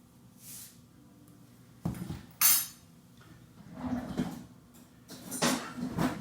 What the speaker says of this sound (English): Give them a good stir to blend.